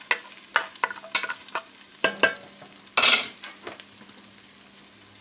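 Garlic and ginger frying in a pan, a steady close sizzle with repeated scraping stirs of a utensil and a louder burst of spatter midway.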